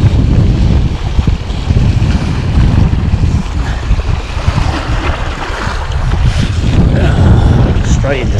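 Fresh wind blows across open water during lure fishing for wrasse, a loud, gusty rush that buffets the microphone over a low wash of waves around the boat.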